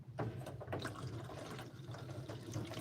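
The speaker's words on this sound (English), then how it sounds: "I'm gonna go in the laundry room and let the cold water run." Cold water running from a laundry room tap into a sink, a steady close splashing flow with light bubbling throughout.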